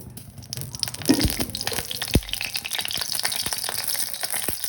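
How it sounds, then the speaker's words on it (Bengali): A whole dried chilli and cumin seeds hit hot oil in a kadai for tempering a bean-seed dal, giving a crackling sizzle with a few sharper pops, close and steady, with no talking. "ফোড়নে একটি লঙ্কা দিয়ে দিচ্ছি, আর এখন গোটা জিরে দিয়ে দিচ্ছি।"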